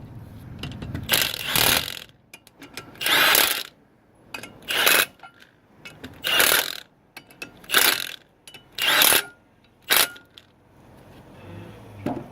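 A torque wrench clicks and ratchets in a series of about seven bursts of metallic clatter as brake caliper bolts are tightened on a 2001 Nissan Frontier, evenly spaced with quiet gaps between them.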